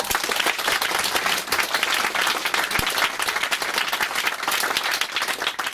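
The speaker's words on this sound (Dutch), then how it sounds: "Ik wil nog graag een keer uw applaus." Guests at the opening of a hospice in Dedemsvaart clap loudly and steadily, a dense close round of applause lasting several seconds with no talking over it.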